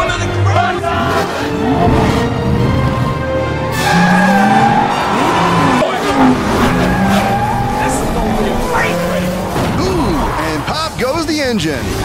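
Race car engines whine and rev while tires squeal and skid, with many overlapping pitch sweeps and a busy, loud mix throughout, playing under an excited talking voice.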